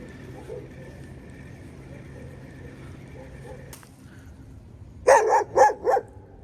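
A dog barks three times in quick succession, loud and close, after several seconds of quiet outdoor winter ambience in a city.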